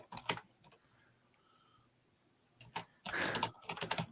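Keys clatter on a computer keyboard in short, close bursts, first a brief flurry, then a quiet pause, then a denser run of typing toward the end.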